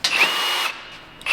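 A portable heavy-duty Bosch power tool runs with a steady, loud whir for about a second, dips briefly, then starts up again close by with no talk.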